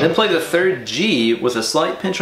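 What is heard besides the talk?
None of the usual background noises is heard.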